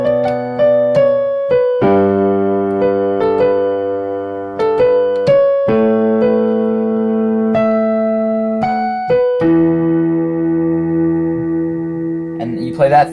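Piano plays part of a piece, a slow melody of sustained notes over held chords, each note ringing clearly and decaying before the next, steady and close without any talking.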